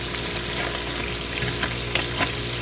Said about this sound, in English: As you fry, you can either stir, turn side with a fork or with a skewer